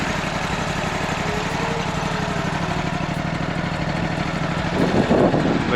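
An Exmark autonomous lawn mower's engine runs loud and close in a steady drone that swells slightly toward the end.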